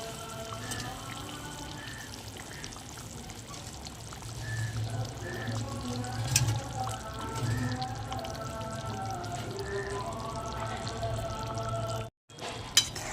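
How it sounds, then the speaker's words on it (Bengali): Duck eggs go into a boiling gravy of coconut milk and poppy seed, which bubbles and trickles gently and steadily over a low hum. Soft splashing swells partway through, then a brief dropout and a small knock near the end. "দেখুন এবার ঝোল পুরোপুরি ফুটে গেছে। এবার আমি ডিমগুলো দিয়ে দেবো।"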